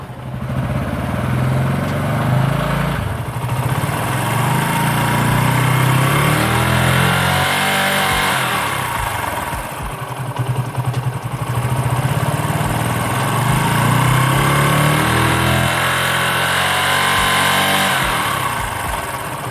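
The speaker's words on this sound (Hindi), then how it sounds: "तो बाइक को स्टार्ट करते हैं और थोड़ी सी रेस देते हैं" A motorcycle engine catches and settles into a loud, close idle, then gets a few blips of throttle that swell and fall back before dropping to a steady idle again.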